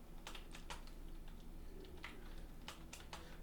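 Rapid, irregular clicks of typing on a computer keyboard close to the microphone, quiet overall with no voices.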